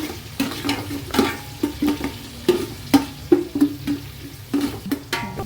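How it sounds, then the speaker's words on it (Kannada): Onions fry in a hot pan for chicken biryani, a steady sizzle broken by repeated scraping stirs of a utensil against the pan, close and fairly loud, with no voices. "ಈರುಳ್ಳಿ ಹಾಕ್ತಾಯಿದ್ದೀನಿ. ಈರುಳ್ಳಿ ಚೆನ್ನಾಗಿ ಫ್ರೈ ಆಗಬೇಕು."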